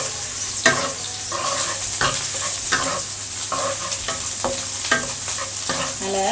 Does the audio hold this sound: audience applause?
no